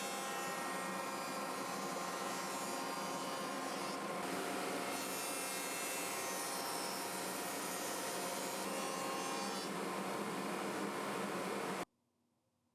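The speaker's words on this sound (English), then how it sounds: "Once set, I run the grooves on the edges of my rails and stiles." A groover cuts grooves along the edges of wooden rails and stiles, giving a steady, loud, continuous whirring rasp that holds for about twelve seconds before stopping abruptly into near silence.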